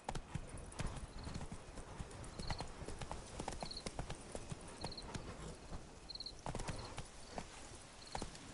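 Hoofbeats from the horse in the video game The Witcher 3: Blood and Wine, a quick galloping clip-clop, faint and fairly regular, over quiet outdoor ambience with soft periodic chirps in the background.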